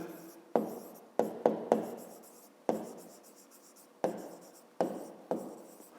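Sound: pen writing on paper

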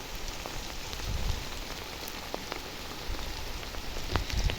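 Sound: rain falling

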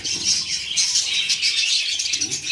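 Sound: budgerigar chicks and parakeets chirping in aviary

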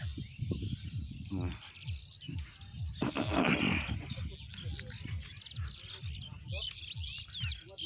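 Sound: birds chattering in an open field

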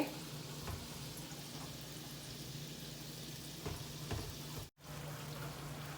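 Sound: vadas (lentil dumplings) frying in oil

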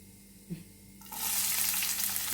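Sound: onion and curry leaves frying with mustard seeds

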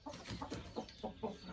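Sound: chickens clucking

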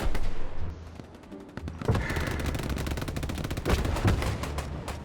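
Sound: gunfire in WW2 video game Hell Let Loose

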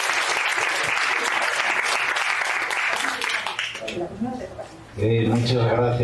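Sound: audience applause for the speaker

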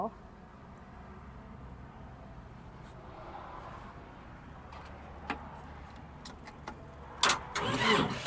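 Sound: Yanmar tractor engine starting

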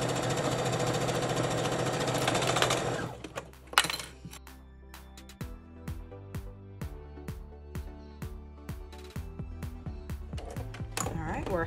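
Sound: sewing machine stitching a skirt

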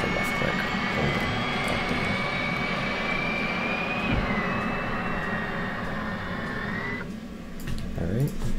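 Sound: F/A-18C APU running in DCS World video game

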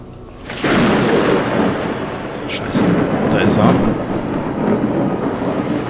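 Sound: thunder from a lightning storm in video game Obscuritas

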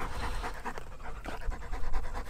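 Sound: hunting dog panting after a long run

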